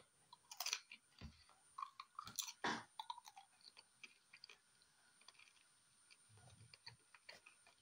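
Crisp crunches of someone biting and chewing a seasoned potato chip, several sharp bursts early on and then softer chewing, close and fairly quiet with no talk.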